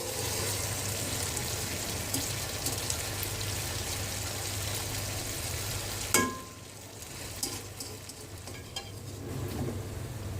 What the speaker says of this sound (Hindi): आलू फ्राई हो चुके हैं।